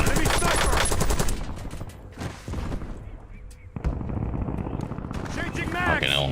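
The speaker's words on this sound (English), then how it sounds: "Taking effective Hostile fire!" Gunfire rattles through a Call of Duty Warzone match, loud dense bursts up front that thin out midway before more shots return, with voices calling out over the action.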